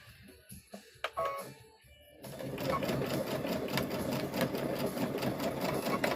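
After a few quiet clicks and handling noises, a sewing machine starts up and runs steadily close by, a fast continuous mechanical whirr with rapid needle clatter while stitching fabric for a trick-or-treat bag.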